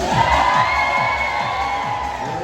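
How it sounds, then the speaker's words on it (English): Outdoor crowd at a Dollywood summer dog race yells and cheers loudly for the blue and red teams, a continuous mass of excited shouts and whoops with a rhythmic thumping underneath. "the louder you cheer, the more noise you make, the faster your dog's running today"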